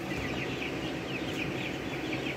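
Many chickens clucking together in an urban poultry house holding about 1200 birds, a dense, continuous chorus of overlapping clucks and calls close by with no talking.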